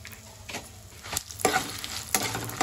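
Coriander seeds and cumin seeds fry in already hot oil for a ginger chutney, giving a soft sizzle broken by a few sharper scraping stirs of a spoon in the pan.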